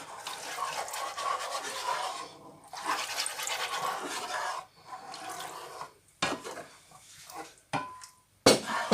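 Broth poured into a pan of sausages in rabbit sauce, a steady close liquid rush for several seconds, then brief pauses and a few short splashes and clinks toward the end; no talking.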